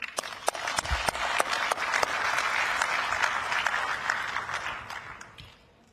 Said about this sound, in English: I would like to take this opportunity to thank them with a big round of applause